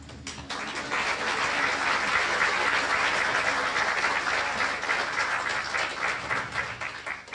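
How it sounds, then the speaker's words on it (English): Sustained applause from the audience at an amateur operatic society's stage show of Carousel, a dense, steady clapping that fills the hall for several seconds without a break. "I think you deserve the first applause"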